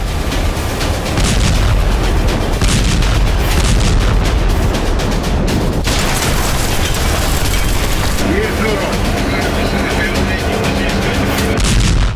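Air strikes hitting Gaza, heavy explosions and booming blasts rolling one after another, loud and continuous with dense rumbling, and voices faintly mixed in toward the end.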